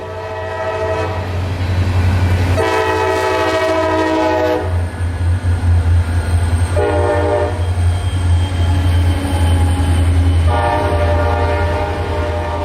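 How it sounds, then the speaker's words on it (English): Freight train led by two foreign locomotives rumbles past as another train passes in the opposite direction, loud and close, with repeated long horn blasts over steady rolling wheel noise. "there happened to be another train coming the other direction, which passed the other train by at almost the exact same time."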